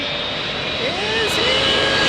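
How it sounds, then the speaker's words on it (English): British Airways Boeing 777 jet on approach to land in San Diego, engine roar swelling as it nears, with whining tones bending in pitch; a voice talks over it. "You can start to hear it. Our British Airways 777"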